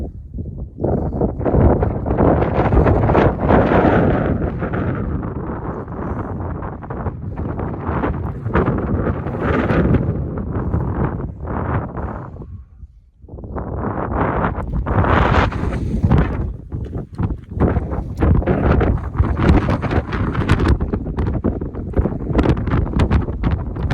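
Strong wind roaring across the summit of Mt. Princeton, a Colorado fourteener, buffeting the microphone in loud sustained gusts that drop away briefly near the middle before surging back.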